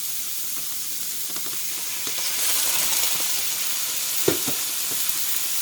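Zucchini and carrots stir-frying in a pan for dolsot bibimbap, giving a soft steady sizzle and hiss with a faint scrape near the end.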